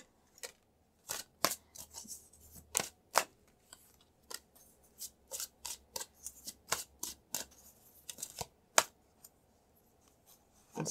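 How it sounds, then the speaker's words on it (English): Tarot cards being shuffled and drawn from the deck: a string of crisp, close riffles and snaps in an uneven rhythm, heard alone without talk. "I'm going to pull some cards and clarify more of this"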